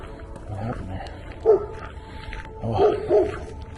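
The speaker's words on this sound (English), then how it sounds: "Dog's freaking out." A dog barks a few times, short yips spaced through a noisy outdoor background during a walk, moderately distant and not very loud.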